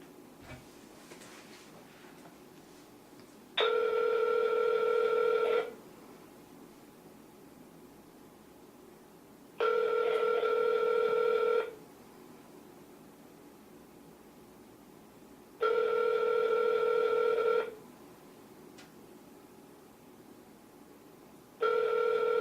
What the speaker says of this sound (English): let's call Mr. Kamau